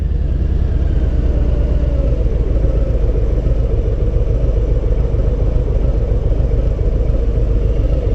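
Harley Davidson M8 Lowrider motorcycle engine running with a deep, steady low rumble, loud and close, holding an even throttle throughout with no talk.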